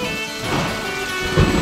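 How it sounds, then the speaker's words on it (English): Heavy rain pours in a steady broadband hiss in a children's car cartoon, with a sharp crash and low rumble of thunder near the end. "It is pouring rain all day"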